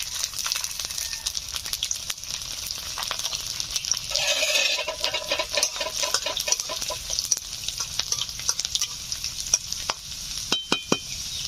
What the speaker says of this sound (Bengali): সরিষার তেল গরম হয়ে গেছে, দিয়ে দিচ্ছি কালো জিরে, দিয়ে দিচ্ছি রসুন